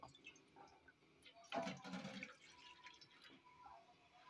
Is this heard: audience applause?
no